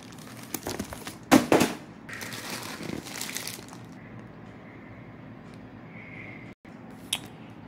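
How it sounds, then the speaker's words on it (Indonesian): Scissors snip and tear through a parcel holding new football boots, sharp crinkling bursts of plastic packaging close by, then quieter rustling as the cutting stops. "Gunting-gunting dulu."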